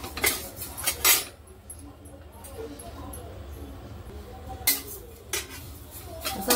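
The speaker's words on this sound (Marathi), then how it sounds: "आता आपले धने पण भाजायला लागले" Coriander seeds dry-roasting in a pan for thalipeeth bhajani flour, giving scattered metallic clinks and scrapes of a spoon against the pan in a few short bursts over a quiet low hum.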